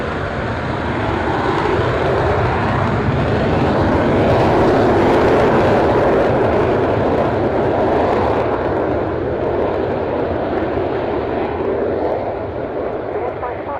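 A military aircraft, callsign Pirate 05, roars down the runway on takeoff, a loud, sustained broadband engine rumble building and holding for over ten seconds, with radio voices talking over it.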